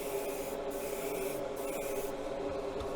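A spray gun lays paint onto a Buick in dry, non-humid air, giving a steady continuous hiss with short pauses and shifts as the gun moves, no talking.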